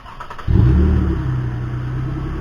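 A 2013 Toyota Sienna with its muffler removed fires up from cold: a short starter crank, then the engine catches and settles into a loud, rough, throaty idle right up close, no voices.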